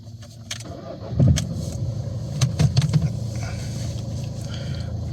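A Nissan Qashqai engine cranks and starts just after a fuel filter change, then settles into a steady, close idle hum with a few brief surges in revs.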